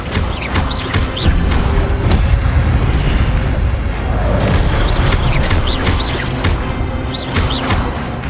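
In Hogwarts Legacy, an Incendio fire spell is cast amid battle: continuous loud whooshing, roaring flame and crashing impacts with dense, explosive combat noise throughout.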